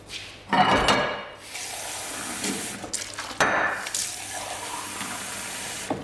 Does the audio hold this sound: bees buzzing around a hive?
no